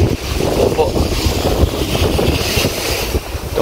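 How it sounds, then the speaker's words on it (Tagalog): A boat engine runs steadily as a dense, loud rumble mixed with wind buffeting the microphone and water noise, with no clear talk. "Itong makina siguro to."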